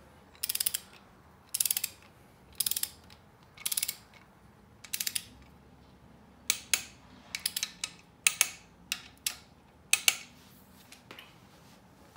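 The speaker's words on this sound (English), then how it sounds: "make sure all are torqued to 18 pound feet" A torque wrench ratchets LS timing cover bolts on a 5.3 engine: short bursts of rapid metallic clicking, evenly spaced at first, then quicker, closer clusters, all near and clear in a quiet room.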